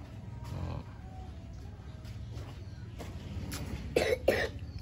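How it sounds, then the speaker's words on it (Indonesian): A child who has a cold coughs indoors, a few short, soft coughs scattered over quiet room noise, the last two a little louder and close together. "Tuh, batuk."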